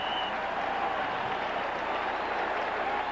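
A large football stadium crowd cheers and applauds during an NFL game between the Dallas Cowboys and Washington Redskins, a steady distant roar of noise sustained throughout with a faint commentator's voice underneath.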